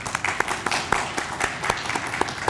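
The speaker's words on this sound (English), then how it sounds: "We'd like to give a round of applause to our family and friends." An audience at a Phi Theta Kappa induction ceremony applauds, a dense, steady patter of many hands clapping at moderate distance that fills the whole short stretch without pause.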